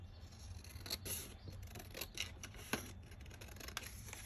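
Fabric scissors snip through paper pieces in a series of short, crisp cuts, close but quiet, spaced irregularly over a faint low hum.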